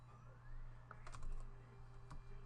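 ActionScript code is typed on a computer keyboard: a short, quiet burst of several key clicks in quick, uneven rhythm, close by, with no talking.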